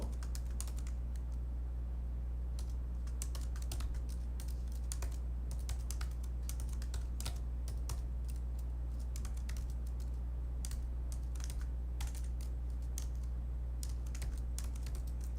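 Someone types quickly on a computer keyboard while entering shell configuration in a terminal, the keys clicking in dense irregular bursts close up over a low steady hum.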